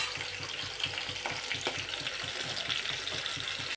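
Cumin, chopped green chilies and sliced onions fry in hot oil for a palak curry, giving a steady close sizzle with repeated scraping and stirring strokes throughout, no voices.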